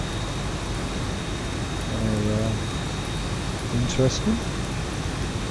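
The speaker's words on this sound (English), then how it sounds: "It looks like it's raining as well." Steady hiss of rain in the X-Plane 12 flight simulator game fills the clip, with a person briefly speaking midway and another short voice later.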